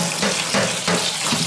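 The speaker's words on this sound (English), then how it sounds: "Then you wanna rinse them in cold water," Cold tap water runs steadily into a kitchen sink over cooked spaghetti noodles, a loud, continuous rushing stream with slight surges and no talking.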